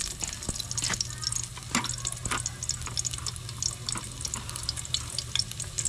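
Garlic frying in a pan in a rural kitchen, a soft steady sizzle with light stirring and scraping clicks, faint and close, with occasional quiet talk in the background.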